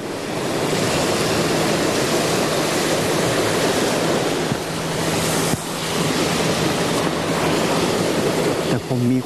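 Sea waves wash onto a beach in a steady, loud roar of surf, with a voice briefly heard near the end.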